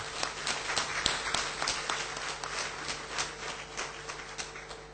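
An audience applauds at a Pakatan political forum in a hall, a dense, steady patter of many hands clapping at a moderate distance for several seconds.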